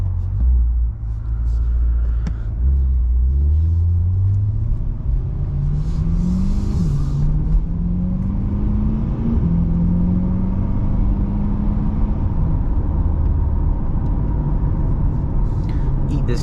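A mid-engine Chevrolet Corvette C8 accelerates in Z mode from inside the cabin, its engine droning and rising in pitch through the gears with a loud steady rumble and no talk over it.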